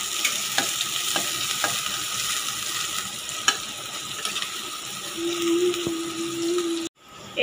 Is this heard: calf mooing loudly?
no